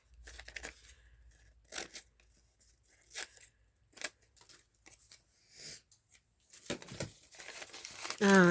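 A brown paper sack is crumpled and crinkled in several loud bursts separated by short pauses, close up, ending with a louder rustle.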